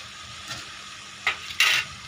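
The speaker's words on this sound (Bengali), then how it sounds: "কষিয়ে নিচ্ছি" Desi chicken sautéing in a pot, a low steady sizzle with a few short stirring scrapes near the end, the last one louder and longer.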